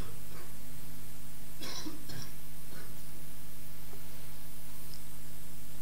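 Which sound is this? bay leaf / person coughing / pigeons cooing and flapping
person coughing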